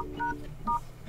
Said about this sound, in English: you need to open your phone dialer, as we'll be entering those codes right here